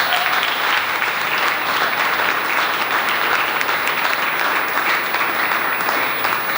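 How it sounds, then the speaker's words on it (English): Sustained audience applause after a panel discussion at a university forum, dense and even, filling the hall steadily throughout with no talk over it. "Let's give them a round of applause."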